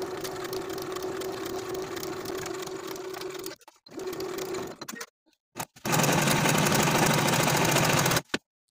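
A sewing machine stitching a sleeve seam on a top, running steadily for several seconds, stopping briefly, starting again for a short burst, then buzzing loudly and evenly before halting. The machine is close and heard alone.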